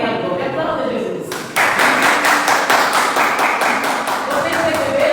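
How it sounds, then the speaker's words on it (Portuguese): After a brief lead-in, a church congregation breaks into loud, unison rhythmic clapping, with quick regular beats continuing steadily. "Aplauda Jesus"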